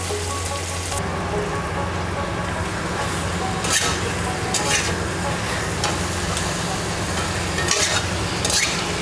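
Chicken, one kilo, stir-fried and seared in a pan for a thin Bengali curry with potatoes: a steady close sizzle with scraping stirs and occasional louder spatula clacks, no talking.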